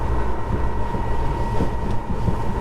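Vita LION electric sportsboat running at full throttle near 33 knots, a steady continuous rush of water and wind noise with a faint motor hum, loud and close throughout.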